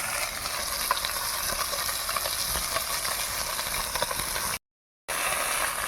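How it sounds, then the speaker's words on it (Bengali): Fish fry in oil in a pan over a wood-fired clay stove fed with dry wood, giving a continuous close sizzle with light stirring, briefly cut off near the end. "মাছগুলো দেখো কাঠের তেলে কত সুন্দর ভাজা হচ্ছে একদম লাল করে ভাজছি মাছগুলো"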